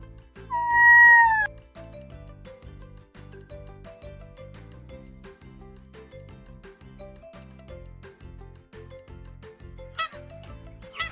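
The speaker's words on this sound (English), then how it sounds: "I am a cat." A cat meows once near the start, a clear drawn-out call over a bouncy musical backing that continues through the rest, with a faint tinkle near the end.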